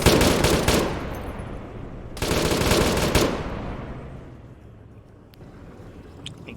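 Automatic gunfire in a video game comes in two loud rapid bursts, the second ending in a fading echoing tail, with a few faint distant shots after.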